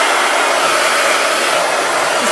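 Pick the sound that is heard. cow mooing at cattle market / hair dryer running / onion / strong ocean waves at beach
hair dryer running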